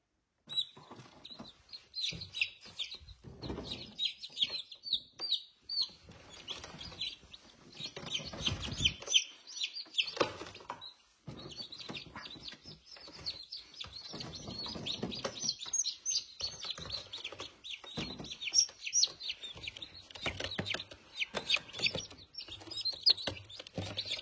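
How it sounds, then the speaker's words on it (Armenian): A small newly hatched chick, one of a home-incubated brood, peeps in rapid high-pitched chirps nearly nonstop, close and moderately loud, with brief pauses and faint handling noise but no talk. "Ու սա այս կանաչ ձունը մի փոքր ճուտ է"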